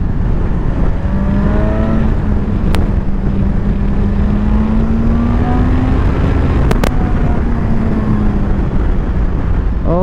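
Kawasaki Ninja 1000 SX sport-touring motorcycle ridden at full throttle with riding modes off, a loud, continuous engine drone with a slowly rising and falling pitch, heavily buffeted by wind roar, with no talking.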